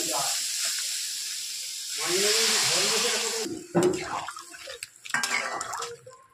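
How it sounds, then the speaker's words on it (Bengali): Water poured into a hot pan of vegetable curry with green chillies, ginger and cumin paste, giving a loud hissing sizzle that rises then settles, followed by scattered clinks and bubbling. "কাঁচা লঙ্কা চেরা, আদা জিরে বাটা, আমি এবার জল দেবো এর মধ্যে।"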